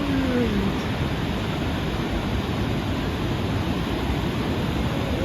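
Steady broadband roar of surf washing onto a beach in Da Nang in the evening, continuous and fairly loud with no distinct breaks between waves.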